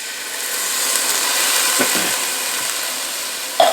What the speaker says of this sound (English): What we're going to do is add a can of diced tomatoes.